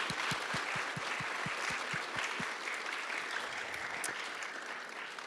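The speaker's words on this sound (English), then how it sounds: "Let's give them a round of applause." A university audience applauds student presenters with a steady wash of clapping, a few louder close claps at the start, gradually thinning toward the end.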